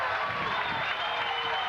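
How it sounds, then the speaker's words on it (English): A high school varsity football crowd in 1994 rises and cheers on both sides of the field, a continuous roar of distant voices with a commentator talking over it. "Crowd comes to its feet on both sides."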